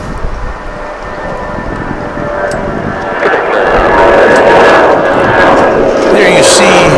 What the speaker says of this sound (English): There you see, headed up into the sky, American Flight 941, on its way to Albuquerque, New Mexico.